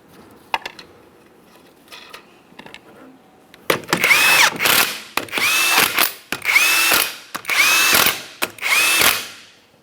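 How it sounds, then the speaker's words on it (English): Power tool driving the 19mm lug nuts on a Jeep Patriot rear wheel: five loud, close bursts of whirring and rattling, each lasting about a second, spaced evenly after a few quiet clicks and taps. "We're starting on all 5 of our 19mm lug nuts. We'll bottom them out."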